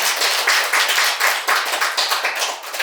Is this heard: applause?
yes